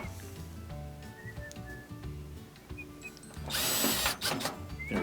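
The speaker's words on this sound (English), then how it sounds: "We're putting in these 2 silver screws." A power drill whirs in short bursts while driving silver screws into a GE washer dryer combo's timer during a replacement, followed by a louder, harsher burst of noise near the end.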